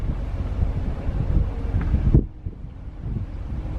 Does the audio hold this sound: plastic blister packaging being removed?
no